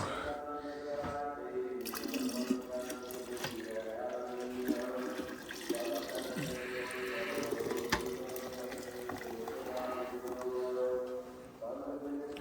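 Milk pours steadily into a large container holding about ten or eleven litres, giving a continuous gushing, bubbling flow close by, with faint background voices.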